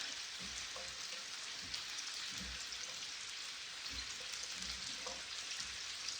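Cajun shrimp, sausage and vegetables frying in bacon grease in a skillet give a faint, steady crackling sizzle with occasional soft pops, and no voices.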